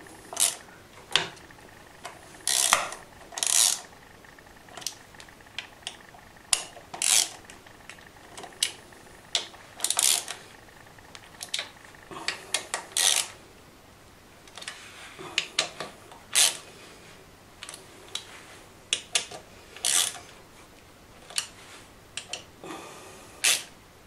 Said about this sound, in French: nous avons donc resserré toutes les vis qui font le tour de notre carter de transmission